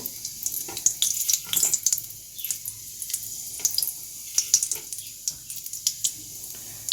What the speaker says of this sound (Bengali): তেলটি গরম হয়ে গেছে আমি এখন ফোড়ন একটু কালি জিরে কালো জিরে দিয়ে দেবো